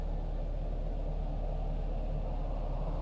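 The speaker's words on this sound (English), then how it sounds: "It's like a perpetual dust storm in this region" A constant, dense low rumble of wind-driven dust in the Planet Crafter game, a perpetual dust storm sweeping a rocky region, steady and loud throughout with no talking.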